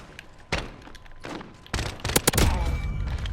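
An SKS semi-automatic rifle fires in Modern Warfare, with several separate sharp shots spaced apart, the last few coming quickly in a loud cluster amid game ambience.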